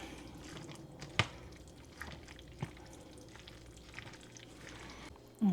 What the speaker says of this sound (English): Now we're going to add the noodles. And try to get this stirred up.